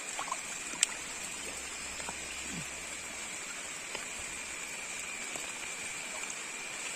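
Soft, steady rain pattering outdoors in the Konkan during crab fishing, with a few scattered drips, fairly faint and continuous, accompanied by a constant high insect-like whine.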